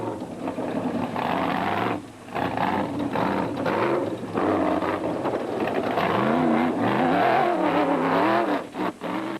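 Rally cars racing flat out on a gravel stage of the 2008 Limpopo 400, engines roaring and revving steadily with gear-change dips, loud and continuous with no talk.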